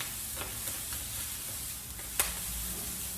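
Ugali mixture of maize flour and water is stirred in a pot over the heat, a continuous bubbling hiss marked by a few soft scraping knocks and one sharper clack.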